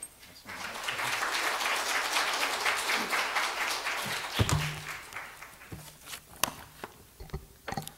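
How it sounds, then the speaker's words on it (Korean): A church congregation claps in welcome for a pastor, a sustained wash of applause for about four seconds that thins into scattered claps, taps and a few isolated knocks. "나오실 때 박수로 환영해 주시면 감사하겠습니다"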